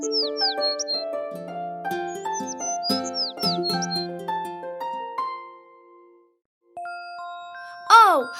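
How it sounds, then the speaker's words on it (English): A beautiful bird perched in a tree sings bright whistled chirps and gliding trills over gentle melodic music, ending in a louder, sweeping call. "they both heard the sound of a beautiful bird perched on a tree, singing so beautifully"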